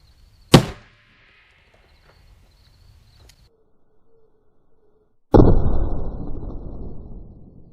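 Two sharp gunshots from a Smith & Wesson 610 revolver with a 3 7/8-inch barrel, firing Underwood 10mm 150-grain Nosler self-defense rounds into clear ballistic gelatin; a crisp crack is followed seconds later by a louder blast with a long decaying tail.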